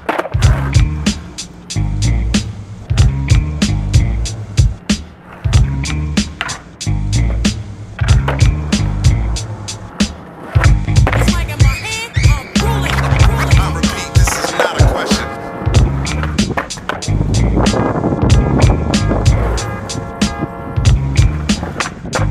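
Skateboard wheels rolling on pavement with repeated sharp clacks and board slaps from frontside 180 no-comply tricks, a steady rumble broken by percussive pops throughout, close and loud with wind noise.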